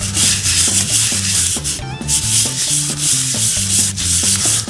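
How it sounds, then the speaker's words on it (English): A small engine cylinder head from a Honda QR 50 is rubbed in repeated figure-eight strokes on 400 grit sandpaper over a flat heavy steel plate, giving a loud, rhythmic rasping scrape with no talking. "I've got a super flat heavy plate of steel on some 400 grit sandpaper. We're going to make a figure 8 pattern."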